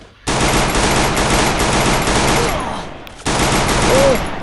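Rapid automatic gunfire rattles in a Free Fire clash squad ranked match. There are two long, loud bursts separated by a brief pause, and a faint in-game tone sounds during the second burst.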